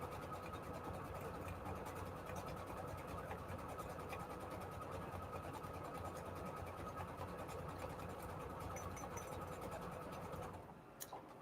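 Sewing machine stitching a decorative stitch into cardstock with a special presser foot, a steady rapid mechanical whirring and clatter that runs continuously before stopping abruptly near the end, with no voices.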